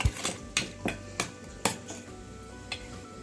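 Spices in a pot of Kathiyawadi olo are stirred, producing about seven sharp, close clanks of a utensil against the metal pot at uneven intervals with quiet gaps between them.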